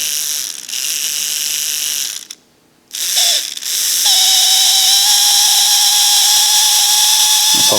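A model train locomotive's small electric motor and gears run after oiling, giving a steady high whirring hum with a brief ratcheting break partway, then settling into a continuous loud mechanical drone alone without talk.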